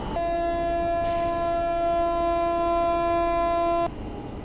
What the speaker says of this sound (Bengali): মাত্র 1 মিনিট লেট ট্রেন ছাড়লো, রাত 12:06 হাওড়া জাংশন